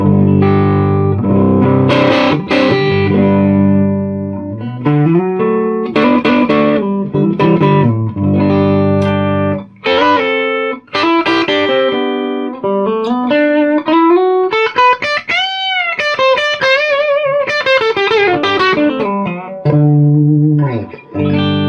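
Electric guitar played through a Quarterhorse 25W Microamp with the volume rolled up, picked hard into light breakup; loud, continuous phrases of chords and single-note bends with no talking.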